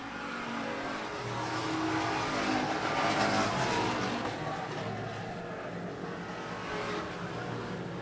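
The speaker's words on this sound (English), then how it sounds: "a lot of cars go on by to shuffle Bouncer backwards in the 8B" Street stock race cars roar past on an oval track, engines swelling loud and then easing off while a commentator talks over the pack.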